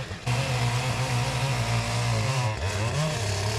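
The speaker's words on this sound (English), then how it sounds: "with the chainsaw, I'll go ahead and make the notch." A chainsaw roars as it cuts a notch in a wooden post during a barn build, its engine droning steadily up close with a brief dip and rise in pitch midway.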